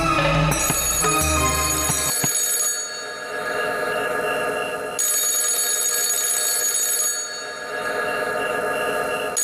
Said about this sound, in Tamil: என்னது இந்த நேரத்தில் யார் ஃபோன் பண்றாங்க?